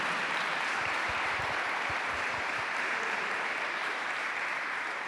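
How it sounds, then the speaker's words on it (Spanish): A church congregation applauds during a Spanish-language service, a steady, dense wash of clapping from many hands that carries evenly for several seconds with no voices above it. "Damos un aplauso a esa identidad que tenemos en Cristo Jesús"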